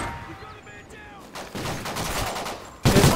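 Shotgun blasts in a first-person shooter game, a few sharp bursts, the last one loud and close, over faint game ambience.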